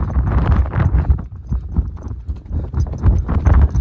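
A mare's hooves clip-clop as she is led up a hill. The uneven hoofbeats land close and loud over a rustling ground noise, with no talking.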